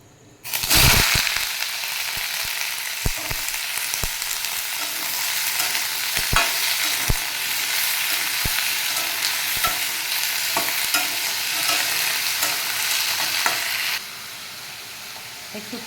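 Vegetables frying and being stirred in a pan, a steady close sizzle and steam hiss with repeated sharp scraping knocks of the utensil, softening near the end.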